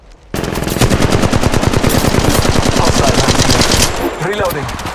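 Loud, rapid automatic weapon fire in the Apex Legends Mobile video game, a steady burst of closely spaced shots running for several seconds before tapering into softer game effects.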